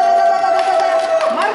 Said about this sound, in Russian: Где бурные аплодисменты?